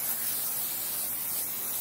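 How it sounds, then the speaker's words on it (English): Pan spray hisses steadily from a can onto a baking pan in a kitchen, one continuous close, even aerosol burst lasting under two seconds with no talking. "I'm gonna spray this pan"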